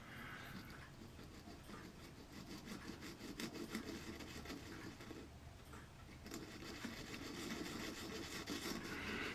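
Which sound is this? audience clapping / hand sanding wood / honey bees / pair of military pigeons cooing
hand sanding wood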